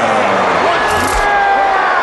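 A boxing arena crowd cheers and buzzes for Floyd Mayweather after the result, a loud continuous roar of many voices with whistles and shouts rising above the din.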